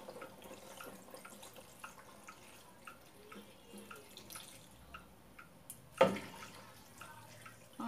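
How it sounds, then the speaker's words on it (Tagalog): Water runs faintly into a pressure cooker holding pork face for Ilocano-style paksiw, a soft running trickle with scattered drips and one sharper knock, close but quiet. "Then, mag-a-add tayo ng tubig"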